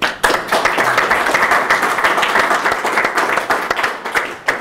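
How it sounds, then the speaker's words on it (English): A live audience at a chess tournament show in Gibraltar applauds, a dense, close round of clapping with distinct individual hand claps, holding steady for several seconds before tapering at the end. "So big round of applause, please, for Natalia Poganina."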